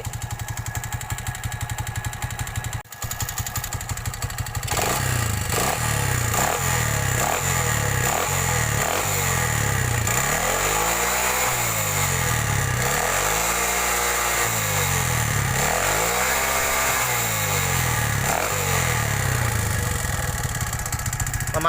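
A small motor scooter fitted with a modified, muffled quiet exhaust idles near the listener, then gets a run of short throttle blips followed by longer, deeper revs that rise and fall in a repeating pattern.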